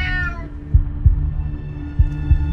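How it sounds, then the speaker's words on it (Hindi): A cat gives a single short meow at the start, followed by soft, muffled low thumps over a steady hum. "ये तो म्याऊं कर रही है।"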